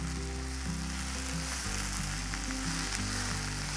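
Fresh mint and coriander leaves sauté in a hot pan, giving a steady close sizzle that runs throughout, with a low hum underneath and no voices.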